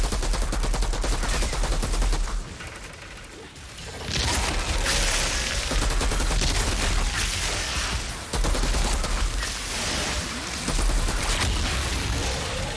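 Sustained automatic gunfire firing freezing rounds in the shooter game Outriders, loud and dense bursts of rapid shots with brief pauses near 2.5, 8.5 and 10.5 seconds, no talking.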